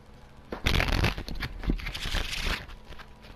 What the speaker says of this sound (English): let's just shuffle some cards here.